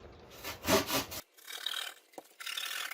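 A wooden block being sawn by hand to make a football tee, with a few loud, close back-and-forth rasping strokes, a pause, then lighter sawing.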